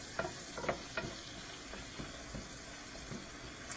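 Ingredients for lasagna brown in a pan with a faint, continuous sizzle and a few soft stirring knocks, quiet and close.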